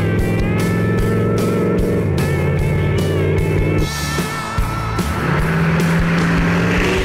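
A loud, steady truck engine drone with shifting pitch as it drives a twisty road, revving and easing through changes of speed.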